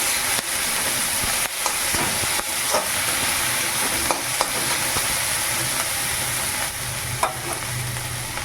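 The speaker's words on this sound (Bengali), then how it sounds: "আদা বাটা রসুন বাটা দিয়ে দিয়েছি এবারে মশলাগুলো দিয়ে দেবো সব" Ginger-garlic paste and spices being sautéed in a pan before kabuli chickpeas go in: a continuous close sizzle with repeated spatula scrapes and knocks over about eight seconds.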